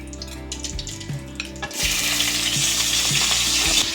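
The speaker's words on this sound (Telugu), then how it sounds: "చికెన్ అంతా కొంచెం సేపు ఫ్రై అవ్వనివ్వాలి" Marinated chicken drops into hot oil spiced with cinnamon, cloves, cardamom and bay leaf, setting off a loud burst of sizzling that rises halfway through and holds steady over a low recurring hum.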